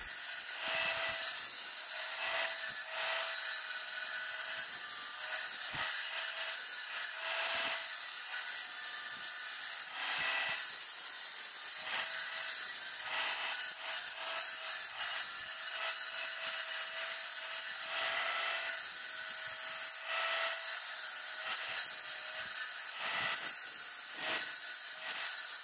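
A tile saw grinds through a piece of slate while carving out a bear shape, producing a continuous high, gritty whine that shifts in pitch and pressure as the cut is pushed and eased back.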